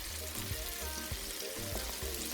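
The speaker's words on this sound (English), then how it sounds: "So you coat it very well and you place it in the oil." Flour-coated fish frying in hot oil, a soft continuous sizzle with faint crackles, quiet and steady throughout.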